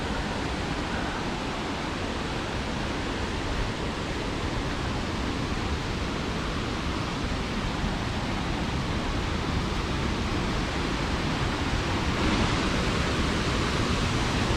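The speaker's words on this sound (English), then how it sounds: "Can you guys hear the falls?" Abbi Falls near Madikeri in Coorg pours down as a steady, broad roar of rushing water, an unbroken hissing wash that stays even and full for the whole stretch with no voices.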